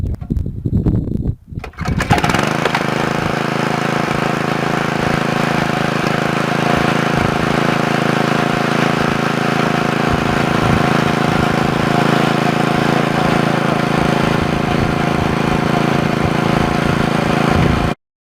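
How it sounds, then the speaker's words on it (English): A small Porta Drill Mini engine is pulled to start, sputters, then roars into a loud, steady running drone that holds for the rest of the clip before cutting off. "after the motor's been warmed up, it'll start on the first pull"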